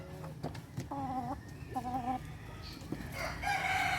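Chickens with colds cluck and a rooster crows in repeated harmonic bursts, close by, with scattered farmyard clucking between the calls.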